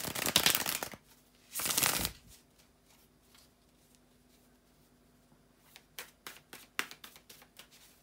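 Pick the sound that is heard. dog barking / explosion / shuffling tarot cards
shuffling tarot cards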